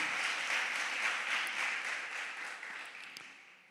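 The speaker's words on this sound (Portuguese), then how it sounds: "Vamos aplaudir o Senhor" Church congregation applauding at a Baptist worship service, a steady broadband wash of many hands clapping that stays dense for a few seconds, then slowly thins and fades.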